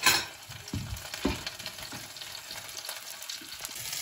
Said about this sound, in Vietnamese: Bây giờ mình xào cái đầu nó sao, tại cái đầu nó mau chín đó.